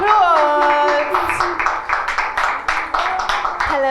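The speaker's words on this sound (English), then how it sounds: "Give her a round of applause." Audience applause for a guest welcomed onto a stage: a burst of steady clapping fills the middle of the clip, with a voice heard just before and after it.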